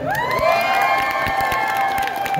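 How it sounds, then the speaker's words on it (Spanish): A comedy show crowd in Kyoto cheers loudly with high shouts and whoops, sustained voices ringing over scattered clapping, close and energetic throughout. "James, aplauso."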